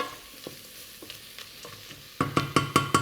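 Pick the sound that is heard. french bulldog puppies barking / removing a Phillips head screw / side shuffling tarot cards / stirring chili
stirring chili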